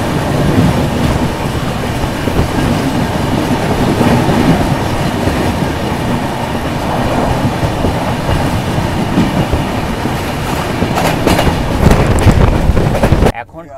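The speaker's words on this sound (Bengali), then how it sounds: "আমাদের সাথে এখন দেখা হবে train number 22504 new Tinsukia superfast এক্সপ্রেসের সাথে।" Superfast express train 22504 New Tinsukia running on the Dibrugarh to Kanyakumari route, a loud continuous rumble with rail clatter and wind noise from on board, steady throughout before cutting off abruptly.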